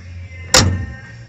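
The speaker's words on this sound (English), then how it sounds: "Listen to this door close." A single solid thud as an old SUV's door is shut at a swap meet, a sharp broadband impact with a brief low rumble trailing after it, heard close and alone.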